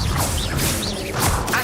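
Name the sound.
Levioso spell cast in video game Hogwarts Legacy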